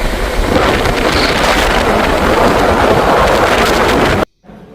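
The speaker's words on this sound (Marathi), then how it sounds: "एकशे दहाच्या स्पीडनं ट्रेन पळत आहे" Strong, continuous wind roar and rumble surround a train running fast at about 110 km/h, loud and unbroken until it cuts off abruptly at the end.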